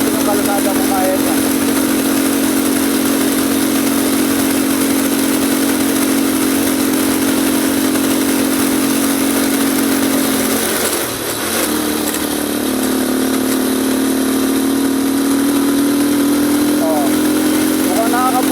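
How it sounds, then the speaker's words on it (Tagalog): Motorcycle engine running steadily on a trail ride at Timberland, a continuous close drone with a brief dip midway, with a rider talking over it. "Mukhang nakakabuelo na yung motor."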